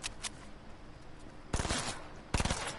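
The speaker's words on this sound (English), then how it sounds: "Okay, who's shooting at me?" Bursts of rapid gunfire from a video game set on a playground map, two short loud volleys of automatic shots over a low background, with no talking.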